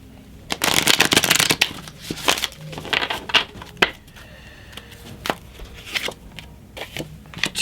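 Tarot cards are shuffled and pulled from the deck in a run of quick papery riffles and flicks, near and fairly loud at first, then sparser card snaps and slaps with brief pauses.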